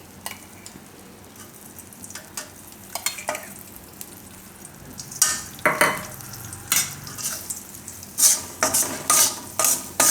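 Rajgira jaggery sheera sizzles in a pan as ghee is added, with a spoon scraping and stirring in irregular bursts that grow louder and busier toward the end.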